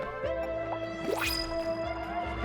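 Cartoonish dripping and bubbling water sounds from the Oxygen Not Included game, with plops and rising gurgle tones over a soft tonal music bed, moderately loud.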